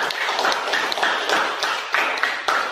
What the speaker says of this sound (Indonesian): mari kita beri aplaus buat kelompok 3